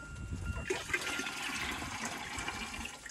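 Water pours steadily from a container into a hanging chicken coop water bucket, a continuous close splashing and gurgling pour that carries on without talk.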